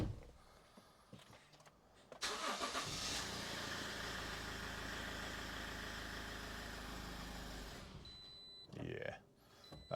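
A 2015 Toyota RAV4 2.2 diesel cranks and starts after a fuel filter change, then settles into a loud, close, rough idle for several seconds before cutting out; a voice speaks before and after.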